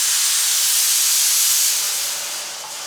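A Prestige 6-litre pressure cooker venting steam, a loud, harsh, continuous hiss that stays level and then tapers slightly toward the end, with no voices over it.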